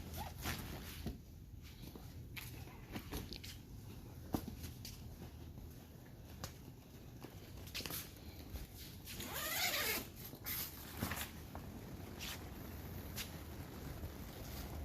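Zippers and flaps being opened on a deflating inflatable double slide combo outdoors, with scattered zipper pulls, rustling vinyl, a rushing whoosh of escaping air partway through and faint background wind.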